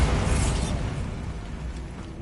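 A Bombarda blasting spell goes off in Hogwarts Legacy, a deep, rumbling burst that swells at the start and then decays into a long, low, noisy roar.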